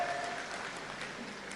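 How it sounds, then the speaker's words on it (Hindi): Crowd applause at a political rally attended by a chief minister, faint and distant, a steady wash of clapping with no distinct voices. "हमारे यशस्वी प्रधानमंत्री के लिए जोरदार तालियां बजाओ"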